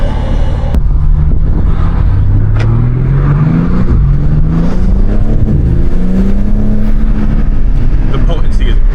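A BMW M3 Competition accelerates on a public street, its engine note rising through the revs in loud climbing sweeps close to the listener, with a brief shift-like break between pulls.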